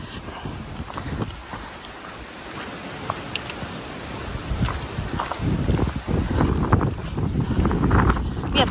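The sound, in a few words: wind blowing on hiking trail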